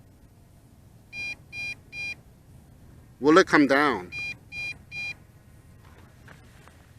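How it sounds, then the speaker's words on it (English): Two sets of three quick electronic beeps, evenly spaced, with a short stretch of speech between the sets, from a JJRC X8 Cetus drone transmitter giving warning beeps. "And it's still giving me those 3 consecutive beeps."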